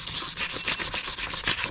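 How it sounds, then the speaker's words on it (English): Sanding a rusted panel on a Toyota MR2 or Citroen C1, rhythmic back-and-forth rasping strokes at close range, about a dozen steady, loud passes with an even scraping texture. "It's actually sanding up really nicely, nicer than I was expecting"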